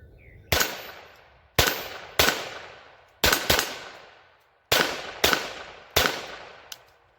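Kel-Tec CP33 pistol firing a 40 grain solid round, eight sharp, loud shots at uneven intervals, each with a decaying echo, and no talk between them.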